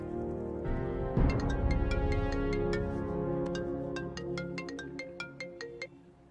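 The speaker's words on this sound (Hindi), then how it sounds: "तुम्हारे लिए कॉल है" A melodic telephone ringtone chimes for an incoming call, playing a bright repeating tune of clear tones. It sounds alone, close and fairly loud, with no voices.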